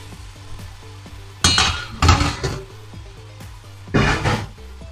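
Bitter gourd and tomatoes stir-fried in a pan with no added water, a steady low sizzle carrying through while three louder bursts of stirring and clinking utensil scrapes break in, close and with no talk.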